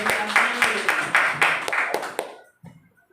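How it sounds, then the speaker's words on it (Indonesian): An audience claps for Ibu Medi at a school discussion on vision and change, a dense, steady patter of applause lasting about two seconds before it cuts off into quiet. "Tepuk tangan dulu untuk Ibu Medi."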